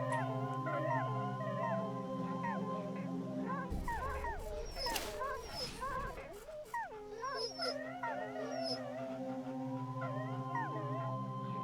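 Dogs sick with plague whimper and whine in the Wasteland 2 video game, repeated high yelping cries over a steady musical drone, with a brief louder rumbling burst midway.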